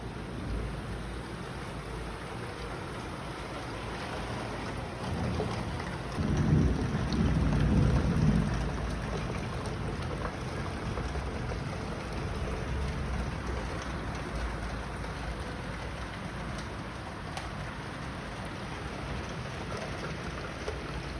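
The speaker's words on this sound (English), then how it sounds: "it's pouring down" Heavy rain pours outside a bedroom window in Accra, a steady dense hiss throughout with a brief louder swell of rumble midway, continuous and moderately loud.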